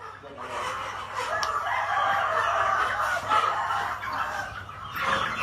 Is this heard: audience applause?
no